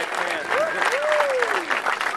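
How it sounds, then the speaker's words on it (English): Steady applause from a crowd at the opening of the Terminator Salvation ride fills the whole stretch, with a voice gliding over the top, likely someone whooping or calling out. "How about a round of applause for Jada?"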